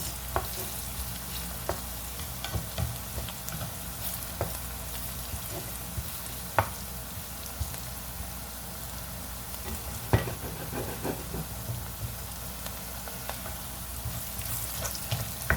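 Onions frying in oil for garnished catfish crackle continuously up close, broken by scattered clicks and scrapes as a spoon keeps stirring them.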